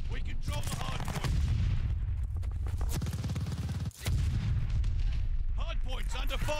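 Dense gunfire and artillery-like blasts crackle through a Call of Duty: Vanguard Hardpoint match, sustained and loud with a brief dip partway, while in-game voice callouts talk over the battle.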